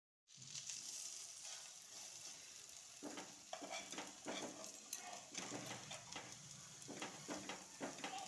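Chira (flattened rice) and semolina snack sizzles and crackles steadily in hot oil in a pan, with intermittent stirring scrapes and clatter rising over the constant frying hiss.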